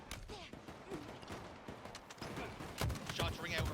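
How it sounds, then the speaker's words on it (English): Gunfire in a Halo esports match at the HCS Arlington event, scattered shots and short bursts ringing through the arena under steady commentary, denser toward the end. "Shots ring out around the arena."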